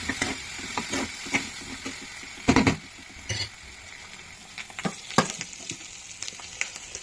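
Green chillies and turmeric fry in oil over a high flame, with a soft continuous sizzle broken by scattered clinks and scrapes of a utensil stirring the pan.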